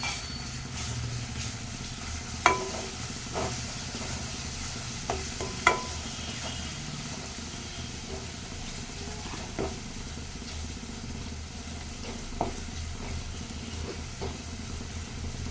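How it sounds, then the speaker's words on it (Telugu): Sliced onion frying with ginger-garlic paste in a pan for an Andhra-style brinjal, chana dal and tomato curry, a steady hiss of sizzling oil broken by a few sharp clinks of a spoon stirring against the pan. "ఆనియన్ అయితే ఫ్రై అవుతుంది కొంచెం అల్లం వెల్లుల్లి పేస్ట్ వేసుకున్నామండి"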